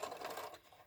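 A sewing machine runs briefly as it puts a few small stitch lines into a mini tote bag, producing a quiet, close mechanical whir for about half a second that fades out, with no voices.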